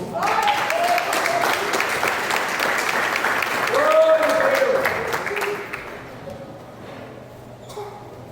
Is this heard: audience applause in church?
yes